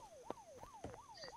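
A police car siren left running in the video game Unturned, a steady rising-and-falling wail repeating about every third of a second, moderately loud and alone with no talk.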